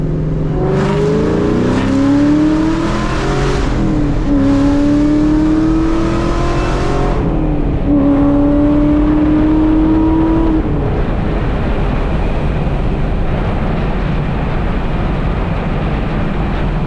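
Ford Mustang SVT Cobra Terminator with a new exhaust pulling hard through the gears, its engine note climbing steeply in repeated loud surges with brief dips at each shift, then settling into a steady roaring cruise, heard from inside the car.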